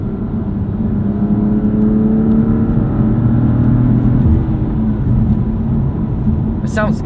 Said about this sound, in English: what you're hearing is actual, real exhaust noise, because I've turned off the active sound design.